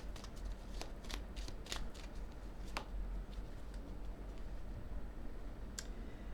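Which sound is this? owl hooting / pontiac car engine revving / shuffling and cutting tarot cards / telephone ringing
shuffling and cutting tarot cards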